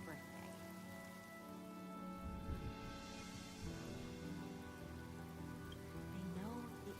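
Rain in Honkai: Star Rail, a steady, soft hiss of rainfall underneath a sustained musical score, no voices over it.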